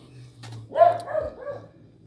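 A dog barks and whimpers once or twice nearby, a short yelping burst over a low background hum.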